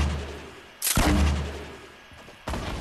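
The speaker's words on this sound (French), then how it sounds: "Tire ton lance-roquette." Rocket launcher firing in Fortnite: a loud, sharp blast that rings out and decays over about a second, followed by a second explosive burst near the end, all against a busy game background.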